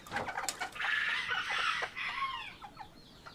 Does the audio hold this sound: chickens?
yes